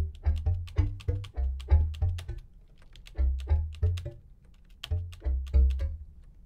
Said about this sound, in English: you can tell by my frantic keyboard mashing